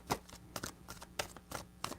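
Tarot cards are shuffled in quick, crisp riffling bursts, five or six short flutters in two seconds, close and fairly soft.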